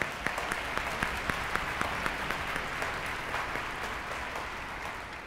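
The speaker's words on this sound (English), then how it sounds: "Yes, please clap for those students." An audience at a high school music festival claps in a dense, moderately loud wash of applause, with a few sharper individual claps standing out near the front before it gradually thins.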